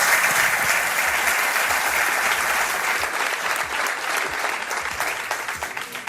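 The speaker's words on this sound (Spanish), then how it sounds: "Os pido un aplauso para ellos dos, muchas gracias." Audience applause fills a live radio event, dense and steady clapping from a crowd throughout, close and loud, slowly thinning toward the end.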